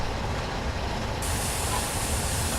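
Flying Scotsman steam locomotive working hard uphill over Shap on a 1 in 75 gradient, heard as a steady, loud, continuous roar and hiss of steam and rail noise with no distinct beats, no voices.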